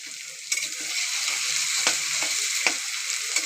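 Potatoes sizzle and fry steadily in a pan, close and loud, with sharp scraping clicks as a spoon stirs them several times.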